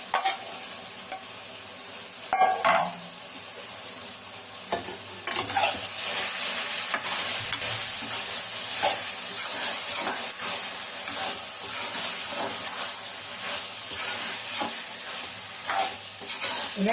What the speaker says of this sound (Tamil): இப்போ நம்ம இந்த சிக்கன் எடுத்து இதில் போட்டுக்கலாம்